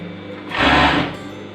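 A 757 overlock sewing machine stitches a strip of cloth in one short loud whirring burst that rises and fades within about half a second, with quiet room sound before and after.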